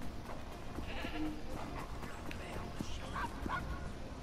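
Dog barking in Assassin's Creed Syndicate, short yips and barks under dense game ambience and music, with faint speech in the background.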